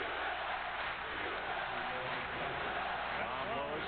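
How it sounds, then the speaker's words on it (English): A large arena crowd of more than 20,000 at a Louisville vs Kentucky college basketball game, cheering and roaring in a sustained, distant wash, with a commentator talking over it. "listen to the crowd."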